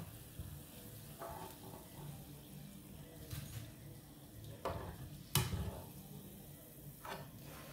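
Urad dal vada batter fries in hot oil with a soft, continuous sizzle, broken by a few splashes and scraping clinks of a utensil. The sound is quiet and close, with no talking.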